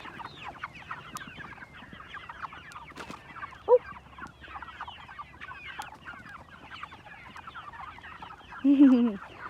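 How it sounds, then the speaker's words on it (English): Chickens cluck and squawk in a busy flock while being fed on a farm, with a louder nearby call near the end and occasional sharp knocks. "favorite time of the day is when I can feed the chickens"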